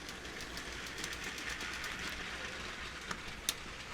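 A small LEGO train rattles steadily along its track around a pool table with a continuous light clatter and a couple of sharp clicks near the end.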